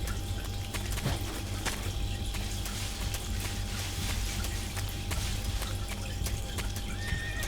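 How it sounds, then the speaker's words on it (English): A horse neighs in the video game Metal Gear Solid 3, amid a dense, steady wash of background noise, with faint clip-clop and watery sounds, fairly quiet overall. "we meet a horse."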